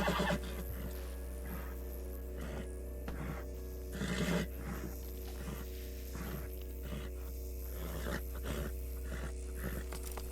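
A horse whinnies several times in short bursts over a steady low hum, with some game-like ambient texture in the background, in the video game Red Dead Redemption 2.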